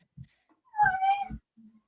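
A cat gives a single clear, drawn-out meow close by, bracketed by a few soft thumps and faint handling noises.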